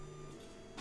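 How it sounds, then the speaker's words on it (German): A 3D printer running in the background, a faint steady mechanical whir with a tonal hum. "warum es davon so ein komisches Geräusch im Hintergrund ist, das ist der 3D-Drucker, der da steht"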